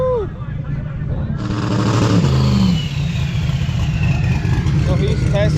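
Drag car engine revving hard on a two-step launch control in the staging lanes at a drag strip during Sick Week, loud and continuous with crackling pops and a rising rev in the middle, over a busy crowd and background voices.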